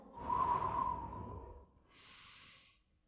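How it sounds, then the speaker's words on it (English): A cartoon character in Family Guy sniffs a hat with a long drawn-in nasal breath, then a second shorter airy sniff follows, close and fairly quiet. "God, let me just sniff this hat."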